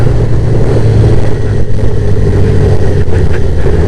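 Suzuki GSXR 600 motorcycle engine while riding, a loud steady droning hum that holds an even pitch throughout, continuous and close.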